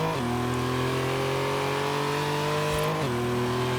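A car accelerates hard in a Forza Horizon 3 drag race, its engine note climbing steadily, dipping briefly at a gear change, then climbing again, loud and continuous with no talk.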